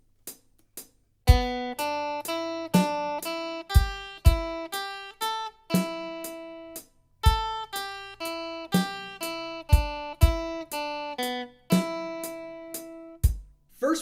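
Short picked guitar notes climb and fall through a pentatonic scale in repeating three-note groups, each step landing on a sharp drum hit that keeps a steady, brisk pulse; no voices.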